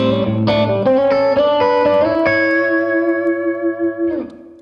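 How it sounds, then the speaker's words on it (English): Clean electric guitar played through a Fender amplifier in the bright, bass-and-treble 1960s American style, a few picked notes and chords ringing out close and loud, then sustaining and fading near the end with no talk. "The Fender sound is all clean, lots of bass, lots of treble, and it's the sound of America in the 60s."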